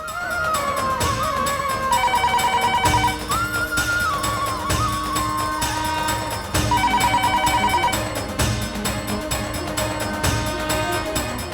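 A telephone rings out during a call attempt in a Hindi TV drama scene, sounding as a loud, steady electronic ring tone over dramatic background music throughout, with no voices.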